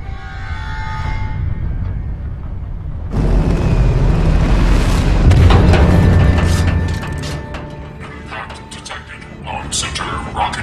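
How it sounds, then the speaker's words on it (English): In Tales from the Borderlands, an impact explosion strikes the center rocket booster, a sudden loud booming roar that swells for a few seconds, then gives way to rattling mechanical clanks and debris. "Impact detected on center rocket booster."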